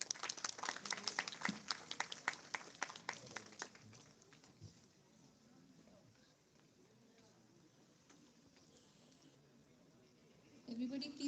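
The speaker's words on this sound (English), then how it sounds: "We would request everybody to give a round of applause." An audience at a plenary session claps in a brisk scattered round that fades after a few seconds into quiet room murmur, faint and somewhat distant, with a little talk near the end.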